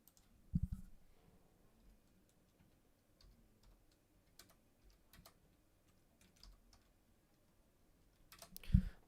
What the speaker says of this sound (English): Sorry, me just typing on my computer.